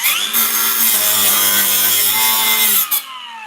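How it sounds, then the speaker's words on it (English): An angle grinder cuts into metal on a 1937 Zephyr, a loud sustained whine with a harsh rasping edge that runs steadily for about three seconds, then cuts off as the motor spins down. "I'm going to grind a little more through here. Sparks are coming right at you."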